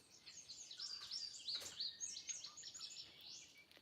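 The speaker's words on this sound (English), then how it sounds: "You can hear the birds singing." Birds chirp and trill at a distance, high, quick overlapping calls over a faint hissy background, no voices.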